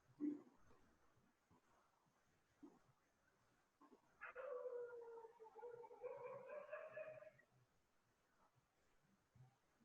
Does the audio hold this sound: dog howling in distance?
yes